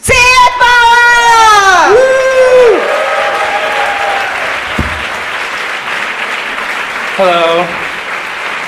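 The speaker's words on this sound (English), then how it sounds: "A big applause for Alex Franz!" An audience claps for Alex Franz, a dense round of applause that starts loud and slowly fades, with a voice calling out over it at the start and another speaking briefly near the end.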